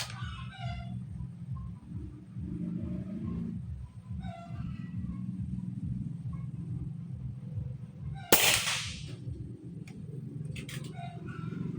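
A Nimrod Shorty airgun fires one sharp, loud crack partway through, standing out against a quiet background with low murmuring voices and faint bird calls.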